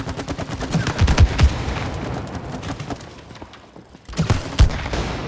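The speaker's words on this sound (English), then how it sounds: "I think it's a shooting range." Rapid, dense gunfire at a shooting range in the video game It Takes Two, loud and continuous bursts with heavier thumps, briefly easing before resuming.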